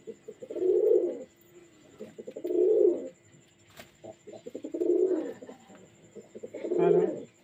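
Pigeons sold as long-bodied high-flying birds give four deep, throaty coos spaced a couple of seconds apart, fairly close and clear against a quiet background.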